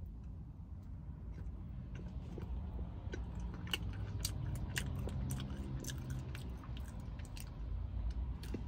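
Someone chews a thick Crumbl banana split cookie close to the mic, with soft irregular crunches and wet mouth clicks against a quiet background hum.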